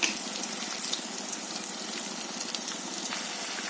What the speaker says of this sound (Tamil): இப்போது நம்ம பருப்பு வச்சு எடுத்து வச்சுருக்கிற தண்ணி கொஞ்சம் சேர்த்துக்கிறோம்